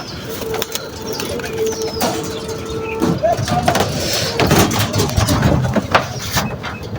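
A small flock of six or seven domestic pigeons lifting off from a rooftop loft, with scattered wing flaps and soft cooing over outdoor background noise and a distant engine.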